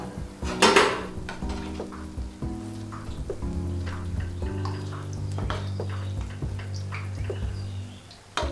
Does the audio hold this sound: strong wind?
no